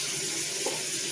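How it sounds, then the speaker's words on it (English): Steady, continuous rush of water running from a kitchen tap, a broad even hiss filling the whole moment, fairly close and with no speech. "I'm just going to turn the water on"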